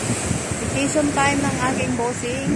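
Sea waves wash onto the shore at Al Khafji beach in Saudi Arabia, a steady close surf hiss with wind noise, while a person talks over it.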